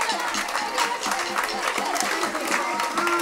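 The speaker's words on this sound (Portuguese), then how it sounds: "eu queria pedir uma salva de palmas" A room full of people applauds an accordion teacher at a sugarcane fair, steady dense clapping that continues evenly throughout.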